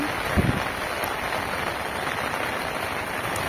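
Steady, dense downpour of heavy rain on a farm field, a constant broadband hiss with drops drumming on surfaces throughout, no voices.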